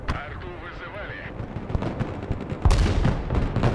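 Artillery barrage in the war game Broken Arrow, a run of heavy booming impacts and rumbling blasts that swell louder near the end, with someone talking over the fire.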